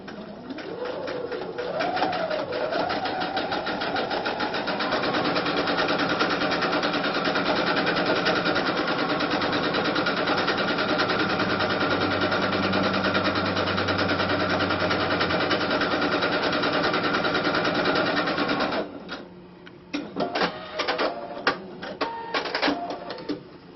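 A sewing machine fitted with a piping foot stitches piping onto fabric in a long, steady, loud mechanical run, then breaks into short stop-start bursts near the end.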